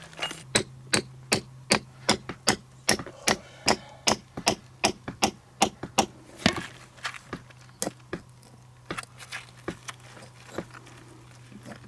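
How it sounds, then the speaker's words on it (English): Small hammer tapping a small chisel to chip hard rock away from a dinosaur bone at an excavation, a steady run of sharp close metallic strikes that grows irregular and softer toward the end. "I'm gonna use the small chisel and the small hammer."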